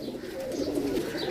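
Pigeons coo nearby, a single low, soft, throaty rolling coo that runs through the whole short moment over faint background noise.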